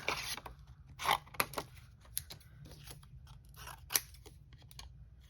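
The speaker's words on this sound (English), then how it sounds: "now I'm going to cut this. Hand cut these." Hand-held scissors snip through paper in a papercraft session, a run of close, crisp irregular cuts with sharper strokes scattered across the stretch, heard alone without talk.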